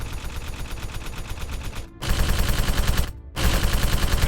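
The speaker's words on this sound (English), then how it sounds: "The kitchen erupted in a hail of gunfire from both the androids and the crew members." Gunfire breaks out in a kitchen as androids and crew members shoot at each other in a tabletop sci-fi game. Dense, loud bursts of rapid automatic fire come in three volleys, split by two short silent gaps.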